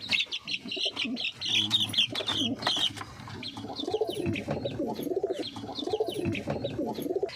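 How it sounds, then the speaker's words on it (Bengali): Giribaz pigeons coo and chirp close by in a steady murmuring chorus, with occasional wing flutters and a busy loft atmosphere throughout. "এই যে একটা গিরিবাজ পায়রা"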